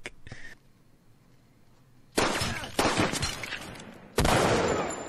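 Gunfire from a tense TV drama scene in The Walking Dead, with a few sharp broadband bursts arriving separately after a brief tonal cue and quiet lead-in, each followed by a ringing crackling decay.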